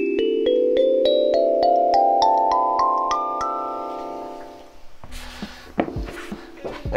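A see-through Tree Elf acrylic kalimba plays a quick rising run of about a dozen plucked tines that ring and overlap, followed by soft handling knocks and shuffling at close range.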